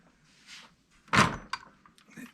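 A wooden cabinet door in a workshop closet swings open. There is a soft creak, then a solid thunk and a few small knocks, heard up close against quiet room tone, with no voices.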